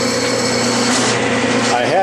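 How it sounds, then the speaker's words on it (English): A 5/16 inch drill bores a hole in a metal workpiece on a lathe, giving a steady, loud whirring grind with a rising squeal near the end; no one talks over it. "I'm just going to drill until I feel it hit the bottom, which is very apparent."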